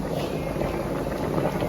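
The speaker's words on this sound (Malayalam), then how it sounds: "നമ്മുടെ മീൻകറിയും ഇവിടെ തിളച്ച് വന്നിട്ടുണ്ട്" A pot of fish curry in coconut milk boiling steadily, a dense continuous bubbling and seething that holds at an even level throughout without pauses or talk.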